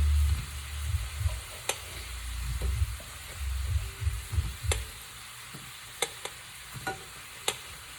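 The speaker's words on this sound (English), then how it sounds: "let this get that nice little sauteed coating on these wonderful onions" Onions and tofu saute in a pan as part of a vegetable stir fry, a soft steady sizzle with occasional stirring scrapes and clicks, fairly quiet and close, with no talking.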